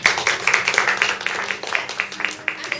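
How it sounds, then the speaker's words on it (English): A small meeting audience claps for the CEO, Dana, at a staged marketing meeting: a short burst of scattered, moderately loud hand claps from a modest group, fairly close. "Let's give our CEO Dana a big applause"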